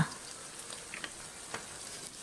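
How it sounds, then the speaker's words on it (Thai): Chicken fries in oil in a wok with a soft, steady sizzle and light crackles, faint and close, with no talk. "เราก็จะใส่ไก่ลงไปทอดเลยนะคะ ทอดไก่ให้สุกก่อนค่ะ"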